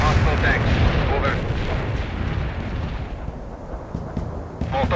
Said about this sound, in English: Napalm is primed and inbound.